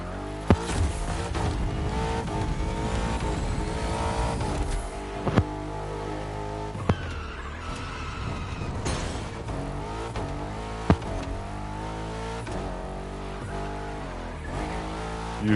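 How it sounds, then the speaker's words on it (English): Mercedes-Benz V8 engine in the racing game The Crew Motorfest, droning and shifting pitch through gear changes with brief tire squeals and sharp transient clicks, sustained and fairly loud. "This game is usually pretty good with engine sounds."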